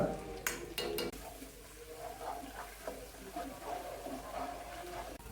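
Onions and red chili hit hot olive oil in a pan with a few sharp metallic clinks at the start, then settle into a moderate, continuous sizzle with intermittent stirring scrapes.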